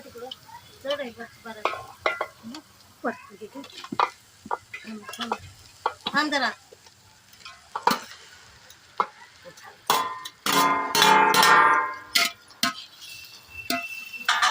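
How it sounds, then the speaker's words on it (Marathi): Soybean fried rice is tossed and stirred in a pan with a spoon: close scraping, clinks and bursts of sizzling, including one longer loud stretch, with brief talking between strokes. "मिक्स करून घ्या चांगला सगळं वर खाली"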